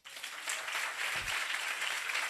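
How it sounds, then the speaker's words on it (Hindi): A church congregation claps together during a worship service, a continuous patter of many hands that rises quickly and holds steady, heard from a moderate distance. "एक बार उसकी महिमा के लिए ताली बजाओ।"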